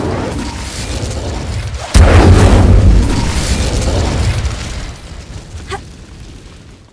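An Incendio fire spell bursts in a Hogwarts Legacy-style wizarding game, opening with a sudden loud whoosh and boom that swells into a roaring rush and slowly dies away, with a small sharp pop near the end.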